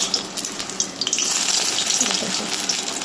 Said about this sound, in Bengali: সেটা আমি সাদা তেলে ভাজছি